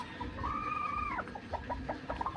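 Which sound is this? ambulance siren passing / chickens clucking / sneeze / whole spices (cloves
chickens clucking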